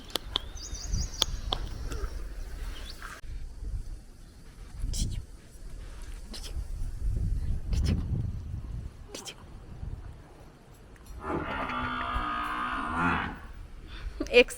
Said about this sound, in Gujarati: દય ચંદુકાકીની ભેંસ છે અહીંયાથી